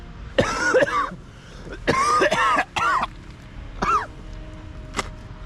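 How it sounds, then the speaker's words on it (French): A smoker coughs and clears their throat several times up close while running, harsh raspy bursts in irregular clusters separated by short pauses. "Ce que je tousse là, c'est le tabac."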